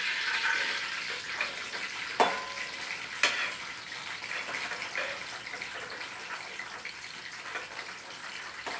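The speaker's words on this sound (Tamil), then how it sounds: "அப்படியே பச்சை மிளகாய் 1 கிலோ பச்சை மிளகாயும் கொட்டுறாங்க" A kilo of green chillies frying in hot oil in a large pan, a broad steady sizzle with two sharp clanks and occasional scraping stirs, fairly quiet throughout.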